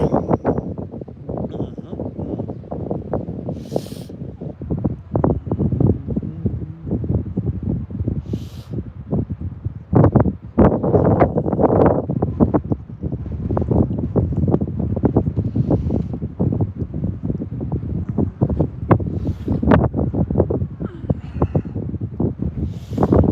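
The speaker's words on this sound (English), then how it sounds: "Windy, windy, windy." Gusty wind buffets the microphone at Prineville Reservoir during a fishing outing, a steady broadband rumble with stronger bursts throughout and a voice talking intermittently underneath.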